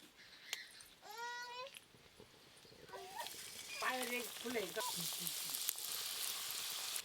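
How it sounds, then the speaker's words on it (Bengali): Palm-fruit shakto puri pitha frying in hot oil, a soft steady sizzle running beneath loud nearby voices and chatter, with the crackle growing denser and brighter toward the end. "এদিকে তেল গরম হয়ে গেছে, এবার তালের শক্তপুরি পিঠাগুলো ভেজে নেব"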